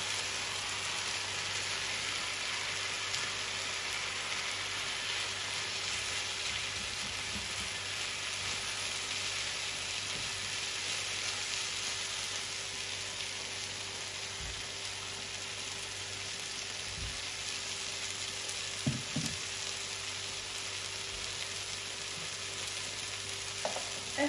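Rice frying in a pan while being stirred, a steady dense sizzle throughout with occasional soft utensil knocks and scrapes, close and without speech.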